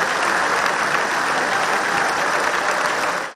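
Sustained loud applause from a large audience in the US Congress greeting Netanyahu's entrance, dense continuous clapping that cuts off abruptly at the end.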